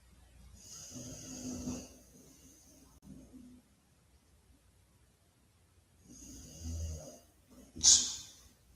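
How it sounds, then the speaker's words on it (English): A man snores nearby in slow, irregular breaths, with a loud rasping snore early, a long pause, then another snore and a sharp snort near the end. "real deal snoring, y'all"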